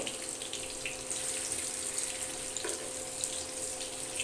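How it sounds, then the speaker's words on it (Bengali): Potato pieces frying in hot oil for a chicken and potato curry give off a steady, dense sizzling hiss that holds at an even level throughout, close by, with a few faint pops. "এবার আলুগুলো ভেজে নিই, সুন্দর করে একটু লাল লাল করে ভেজে নেব"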